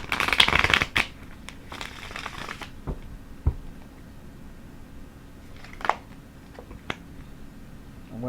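Tarot cards shuffled by hand in a quiet room, a dense riffling burst in the opening second followed by scattered soft card slaps and taps, fairly close and moderately loud with no talking.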